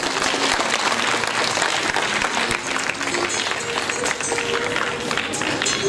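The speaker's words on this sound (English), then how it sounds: "So I want a loud applause for all the parents" Loud audience applause for parents at a school annual day function, dense continuous clapping from a large crowd, close and sustained throughout with faint voices mixed in.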